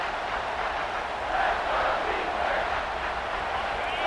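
A stadium crowd in the College Football 26 video game roars in a steady, dense wash of noise on a third-down defensive stand, loud and continuous for a few seconds.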